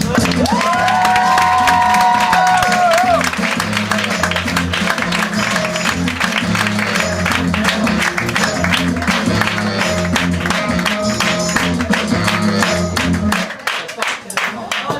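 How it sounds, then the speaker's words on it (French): Loud, dense applause from a comedy show audience fills the room continuously, with scattered cheers and music playing underneath, then it thins out near the end. "Philippe, merci d'applaudir avec chaleur con calor Mathieu Play."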